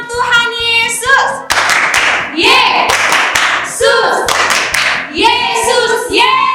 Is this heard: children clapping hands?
yes